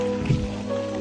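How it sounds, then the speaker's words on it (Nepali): Rain falls outdoors during a walk, a close, steady patter with a brief squishy splash under a low hum, short and fairly loud. "यहाँ यस्तो पानी परिरहेको छ"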